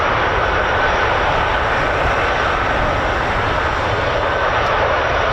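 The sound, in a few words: CV-22 Osprey tiltrotor aircraft flying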